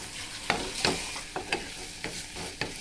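A spatula stirs salted egg bhurji frying in a pan, giving scraping strokes at irregular intervals over a steady close sizzle, with no voices.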